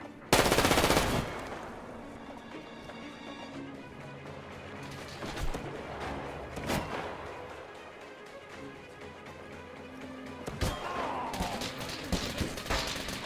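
Gunfire in the video game Metro Exodus: a loud opening burst of automatic fire followed by scattered shots and bangs in a noisy battle, with sharp cracks recurring over a constant din.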